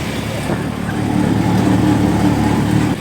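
An auto-rickshaw engine drones steadily while riding along with several friends aboard, a close, loud mid-pitched motor rumble that swells slightly then eases near the end.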